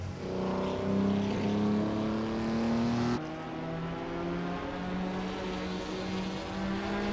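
Racing cars including Maseratis and Aston Martins in a racing game, engines droning steadily at high speed with sustained tones that shift pitch midway as the field runs close together.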